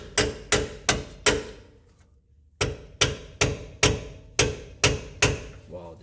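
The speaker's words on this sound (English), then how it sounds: "Using the rubber hammer." A rubber hammer strikes a suspension part on a 2020 Toyota 4Runner with KDSS during an Ironman4x4 front lift install, landing about a dozen sharp, evenly paced blows in two bursts separated by a brief pause.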